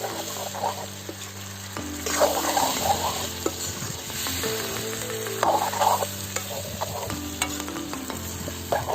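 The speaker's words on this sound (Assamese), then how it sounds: "25-30 মিনিটমান ভাজি থাকিব লাগিব।" Spicy pork with turmeric and red chili powder stir-fries in a pan, sizzling steadily and close with repeated scraping stir strokes, and no voices over it.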